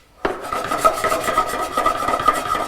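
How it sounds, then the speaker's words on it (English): A salt shaker is shaken over popcorn, sprinkling Flavacol seasoning in a quick series of close, gritty rasping shakes that repeat steadily for a couple of seconds. "I put the Flavacol in a salt shaker, and I'm going to generously coat my popcorn in it."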